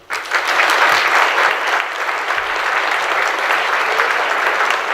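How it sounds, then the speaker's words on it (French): An audience at a 2018 New Year's greetings ceremony in Angresse breaks into loud, sustained applause, many hands clapping densely and evenly for about five seconds after a quick start. "on peut les applaudir."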